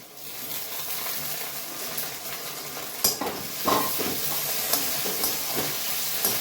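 Vegetables sizzle and hiss steadily in a hot pan, with a few sharp scrapes and clinks of a spatula stirring them.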